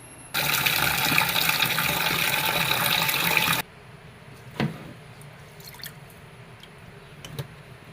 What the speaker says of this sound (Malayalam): ഇതൊന്ന് നന്നായി വൃത്തിയായി കഴുകിയിട്ട് വെള്ളത്തിൽ കുതിരാനിടണം